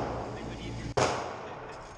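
A Glock 19 Gen 3 pistol fires at a shooting range, a single sharp close report with a short ringing decay over background noise.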